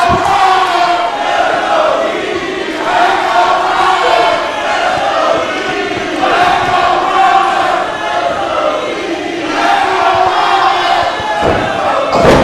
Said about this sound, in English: The crowd right now is on fire.